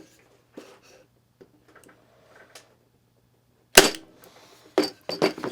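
A Parkside PET25C3 corded electric brad nailer firing brads into the side grain of wood, a sharp loud snap followed by a few more close clattering knocks, with quiet handling noises before.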